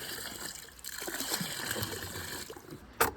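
Rusty bilge water bailed from a narrowboat trickles and splashes into a bucket, a faint continuous pour ending in a small, sharper splash.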